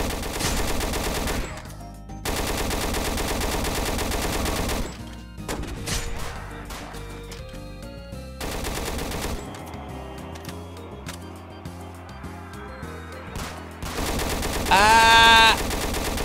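Weapons firing in the Roblox video game, with bursts of game gunfire and crashing effects in several loud stretches, separated by brief gaps and ending in a bright electronic tone.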